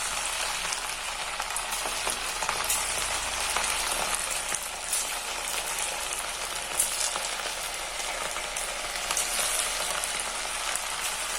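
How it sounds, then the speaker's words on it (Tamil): Marinated chicken pieces frying in hot oil, a dense, steady sizzle and crackle that holds loud and even throughout with no one talking. "இதில் வந்து ஒவ்வொரு பீஸாக எடுத்து இப்போ ஃப்ரை பண்ண போகிறோம்."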